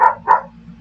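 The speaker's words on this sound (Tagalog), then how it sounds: "Kasi yung aso ko ay ingay na." A pet dog in a home barks twice in quick succession, loud and close, over a low steady electrical hum.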